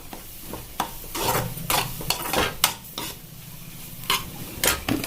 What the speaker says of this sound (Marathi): आता आपण हे छान प्रकारे हलवून घेऊया